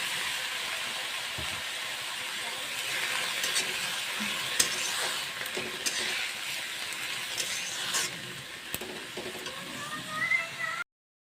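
Four or five green chillies dropped into hot oil for a pea-greens dish, a long steady hiss and crackle with occasional spoon knocks, close up, fading toward the end.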